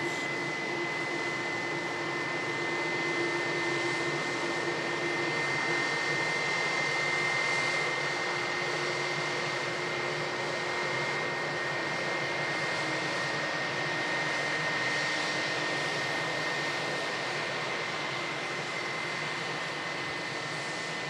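A Finnair airliner taxis at Manchester Airport, its engines giving a steady, continuous whine and roar with a constant high tone from a moderate distance, with no talking.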